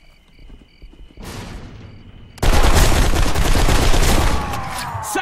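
Gunfire in the shooter BlackSite near Rachel, Nevada: scattered sharp shots, then a sudden loud sustained burst of heavy firing and blasts that thins out toward the end, with no voices.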